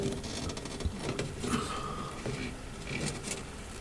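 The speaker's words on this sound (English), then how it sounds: "Okay, I'm hearing rain." Rain heard from inside a house during a kitchen renovation, a faint, steady patter with occasional soft ticks and no talking.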